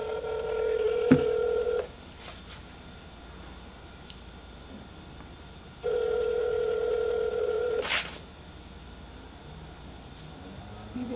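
A telephone call rings through to voicemail, with two long, faint electronic ring tones separated by quiet pauses, plus a few small clicks and a sharp tick between them.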